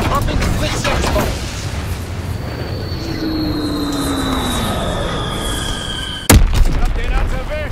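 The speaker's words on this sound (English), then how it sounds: "Recon flight concluded. Dropping Blitzex bomb." A World War II bomber killstreak in a Call of Duty team deathmatch: aircraft engines drone and a falling whistle descends before a sharp, loud bomb blast, with game chatter and speech around it.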